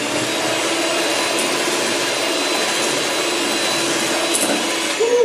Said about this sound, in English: now I'm going to go ahead and add the sugar, and I'll keep whisking it until it gets nice soft peaks